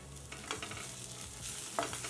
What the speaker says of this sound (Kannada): ಗ್ಯಾಸು ಲೋ ಫ್ಲೇಮ್ ಇಟ್ಕೊಂಡೆ ಹುರ್ಕೊಳ್ಳೋಣ ಹಸಿ ವಾಸನೆ ಹೋಗೋವರೆಗೂ ಹುರ್ಕೊಳ್ಳೋಣ